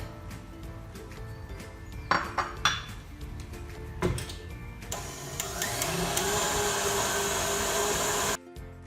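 An electric hand mixer whips egg whites into stiff peaks for walnut boat pastries. A few clinks of utensils against the bowl come first, then the mixer starts up with a steady loud whirring drone that cuts off abruptly.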